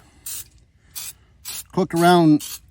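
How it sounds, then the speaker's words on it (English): Three short, airy cooking spray bursts hiss at a steady pace, close by, greasing a campfire oven, followed by a brief stretch of someone talking. "Take your cooking spray,"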